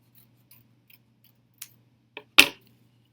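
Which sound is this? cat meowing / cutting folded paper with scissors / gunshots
cutting folded paper with scissors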